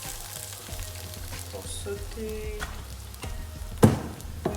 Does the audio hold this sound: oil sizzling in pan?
yes